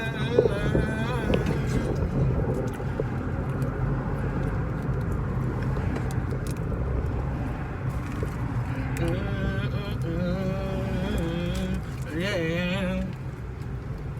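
Two vehicles creep slowly past nearby, a continuous low engine rumble with wind buffeting the microphone, while people talk over it.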